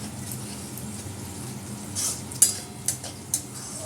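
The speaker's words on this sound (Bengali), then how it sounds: "গরম মশলাটা দিয়ে দিচ্ছি" Whole garam masala and bay leaf sizzle in hot oil for a meat curry, a soft continuous crackle broken by a few light utensil taps and clinks near the end.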